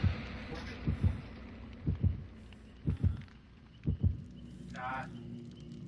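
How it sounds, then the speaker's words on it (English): Heartbeat in the horror game Dead by Daylight: heavy paired low thumps repeating about once a second, steady and loud, with a brief higher sound near the end. "playing with headphones when the heartbeat is freaking ridiculous"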